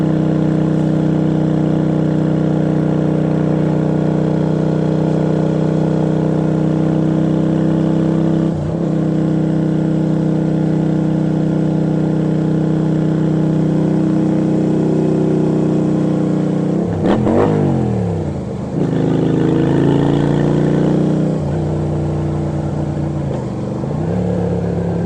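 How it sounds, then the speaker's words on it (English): Motorcycle engine, a small beginner bike such as a ZZR250, pulling steadily up a long hill under added throttle, loud and sustained with a few brief gear-shift dips and revs toward the end. "it was just a matter of squeezing on a bit more throttle, and the torque sort of helped pull it up the hill with ease."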